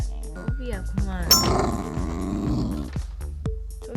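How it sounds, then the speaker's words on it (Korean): A pet dog growls at a baby at home in a sustained, rumbling growl that rises and falls without stopping, close and fairly loud, with people speaking over it. "으르렁 소리는 절대 멈추지 않는다."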